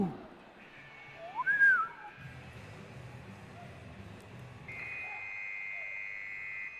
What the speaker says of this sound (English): As you hear that whistle